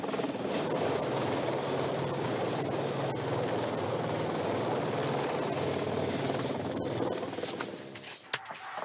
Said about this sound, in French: L'hélicoptère revient toutes les 2 minutes.